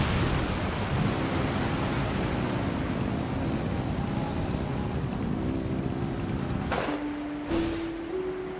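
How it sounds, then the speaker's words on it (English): Boat engines in Genshin Impact rev in a steady broadband roar with a rising hum, then shift to a higher sustained drone near the end. "Rev the engines!"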